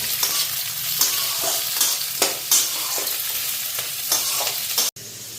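Green beans and other vegetables for vegetarian chow mein sizzle steadily in a hot pan while a utensil scrapes and stirs in repeated strokes, close and fairly loud, ending with a sharp knock.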